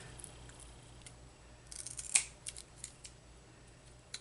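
Scissors snip through a strip of Velcro, a single crisp cut near the middle followed by a few faint, softer snips in an otherwise quiet room.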